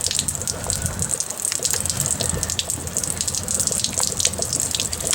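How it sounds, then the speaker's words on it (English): Water gushes and splashes steadily from the hot and cold drain behind a camper's water heater, a close, continuous rushing pour with no talk over it. "And we're just going to let all that water drain out."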